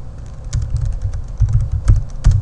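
Keys clack on a computer keyboard as a command is entered, a close, steady run of crisp taps with a few heavier strokes, with no one talking.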